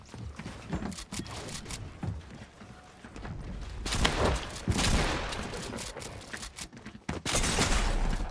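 Rapid bursts of gunfire in the video game Fortnite, loud close volleys of shots in clusters separated by brief pauses.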